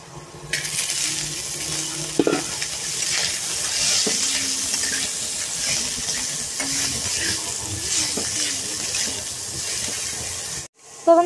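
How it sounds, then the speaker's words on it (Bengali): Potato pieces fry in hot oil in a village kitchen, a steady close sizzle with occasional clinks and stirring scrapes, cutting off briefly near the end. "প্রথমে দেখো আমি আলুটা ভেজে নেব।"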